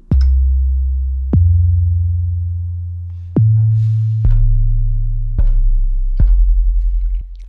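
Deep 808 bass kicks synthesized in Xfer Serum, played alone as a slow series of about eight loud booming hits, each with a sharp click attack and a long sustained low tail.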